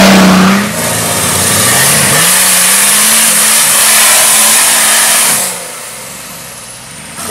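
An off-road racing vehicle's engine roars loud and close, revving hard and holding a high, sustained snarl before easing off near the end.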